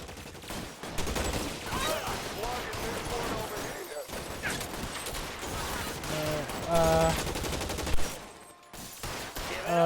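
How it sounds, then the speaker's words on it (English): A Tommy gun firing in a video game, dense rattling bursts of automatic fire mixed with game effects and background clatter, loud and busy throughout with a short pause partway. "we'll get the Tommy gun"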